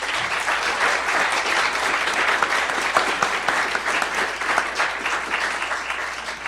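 A round of applause at a Harvard debate event greets a speaker being introduced, steady moderate clapping from the audience throughout, heard from a slight distance.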